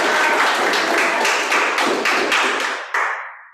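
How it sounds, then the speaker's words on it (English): Applause from a clergy forum audience at a breakfast gathering, a dense burst of many hands clapping with a steady pulsing rhythm that fades out, no talking over it. "So big round of applause for John, please, for the breakfast."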